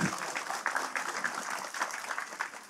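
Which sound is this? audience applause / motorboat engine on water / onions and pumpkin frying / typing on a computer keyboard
audience applause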